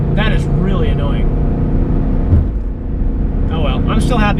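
A 2012 Mustang GT engine roars loudly and steadily through a quick acceleration pull, with a voice talking over it at the start and end.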